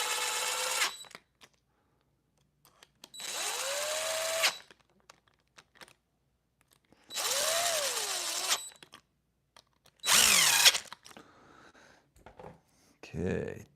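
Power driver tightening screws on an ARRMA 223S RC car, in four separate whirring bursts of about a second each with pauses between, close and fairly loud, then a few short clicks and handling noises.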